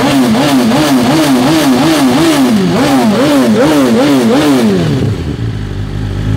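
A 2023 BMW S 1000 RR engine revs loud and close, its pitch rising and falling in a rapid, regular rhythm, then drops off sharply near the end as the clutch is pulled and the engine slows, with no talking.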